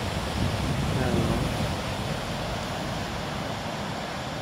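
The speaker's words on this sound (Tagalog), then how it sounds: "Ang lakas ng alon, no?" Strong ocean waves at a beach in Dipaculao, Aurora, a loud continuous roar of surf mixed with wind buffeting the microphone.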